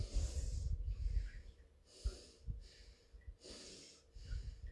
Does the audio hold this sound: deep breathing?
yes